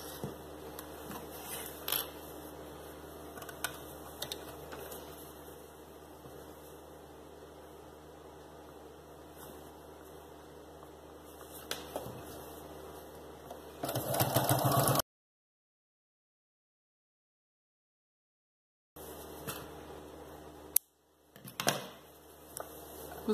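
Sewing machine stitching all the way around a fabric baby shoe, a low steady mechanical hum with faint clicks running for long stretches, breaking off into silence and then resuming briefly with a few sharp knocks.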